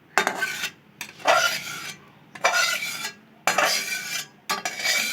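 A spoon scrapes mango chutney out of a kadai in four or five rasping strokes with short pauses between them, close up and with no talking.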